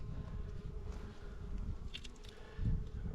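Honey bees buzz in a steady, moderate drone around an open hive during a spring inspection, with faint rustles and handling noises near the end.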